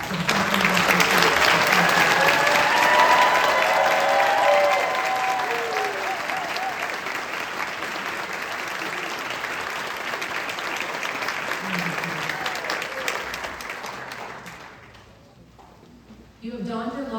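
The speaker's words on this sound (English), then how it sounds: "Please give another big round of applause to the South University." A graduation audience at a South University physician assistant ceremony breaks into loud, sustained applause that gradually thins out and fades near the end, with a voice briefly heard over it.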